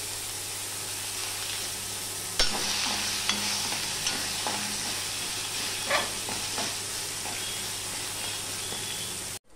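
Crushed garlic frying in hot oil with five-spice seeds in a pan, a bright continuous sizzle and hiss close up, broken by a few sharp clinks and scraping stirs.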